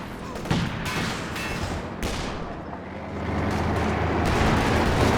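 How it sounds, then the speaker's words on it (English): Mortar fire and other battle noise in the strategy game Company of Heroes 2, with dense overlapping blasts and rumbling explosions that stay loud throughout. "Shot in there from the mortar."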